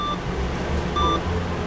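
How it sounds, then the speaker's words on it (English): Two short electronic beeps from an ATM, about a second apart, sounding close over a low background hum. "Memang beeping, ATM-nya beeping."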